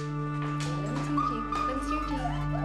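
A dog at a vet's examination makes small whimpers and yips, faint and intermittent beneath a steady background hum, with a person speaking over it.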